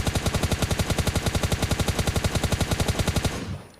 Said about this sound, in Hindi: अब इतनी गोलियाँ पड़ती है, हमने सोचा एक आध गोलियाँ बग्घी पड़ जाएंगी